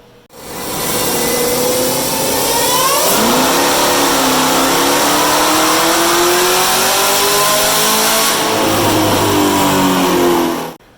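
The Tree-L1 car, fitted with a Magnuson 2650 supercharger, revs on a dyno past 6,000 rpm, a loud engine roar rising steadily in pitch for several seconds before cutting off, with no talk.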